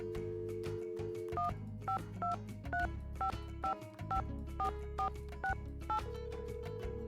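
Touch-tone dialing on a telephone in the Nancy Drew: Secret of the Scarlet Hand video game: about ten crisp dual-tone beeps in a quick, even sequence over a low steady background hum, with no talking.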